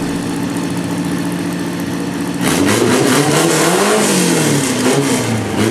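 A Volkswagen Beetle race car accelerates hard in a final race, its engine note climbing and shifting through loud, close revs after a steady idle-like drone, with no talk over it.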